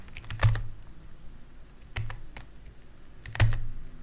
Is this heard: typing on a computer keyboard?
yes